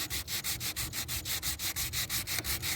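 Sandpaper rubbed by hand across dried foam insulating filler used to patch rust holes on a 1965 Ford Thunderbird, a close, steady back-and-forth scratching in about a dozen even strokes.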